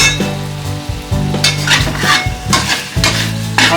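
Pork adobo meat fries on high heat with a loud, crackling sizzle, while a spatula clanks and scrapes rhythmically against the pan and a low hum sits underneath.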